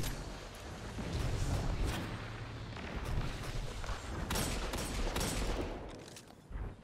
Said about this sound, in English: I'm gonna finish him off with a shoddy